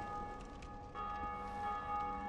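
Church bells toll in Dark Souls Remastered, a faint ringing drone with sustained, shimmering overtones over a brief span.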